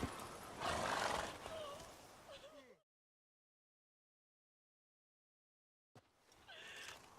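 Geralt's horse Roach in Witcher 3 whinnies and snorts with a few hoof clops, fairly close and loud, then a long silent gap before faint game sounds return.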